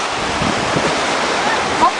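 Rushing water on a river rapids ride at Alton Towers, a loud, continuous churning wash close by, with faint voices mixed in.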